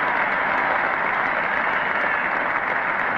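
A cricket crowd at a 1972 Ashes Test in England applauding Greg Chappell's century, steady dense clapping from a large crowd that holds at an even level throughout.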